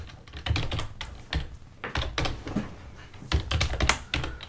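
Close, rapid typing on a computer keyboard in irregular bursts of clicks and key taps, with short pauses between runs and no voices.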